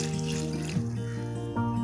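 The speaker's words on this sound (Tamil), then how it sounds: "வெல்லம் முழுகிற அளவு தண்ணி ஊற்றினா போதும்." Water pours over jaggery in a cooking pan, a steady close trickle that runs under a low humming tone, with no voices.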